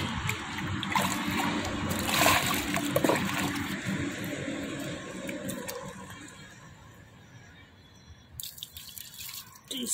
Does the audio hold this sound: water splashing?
yes